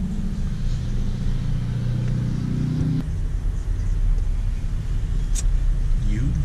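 A 2017 Ford Mustang GT California Edition pulls into a parking lot lined with vehicles, its engine rumbling steadily and loudly nearby, with a short rev and change in tone partway through.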